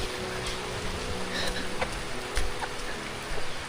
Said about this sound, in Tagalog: Lumakas na naman yung ulan.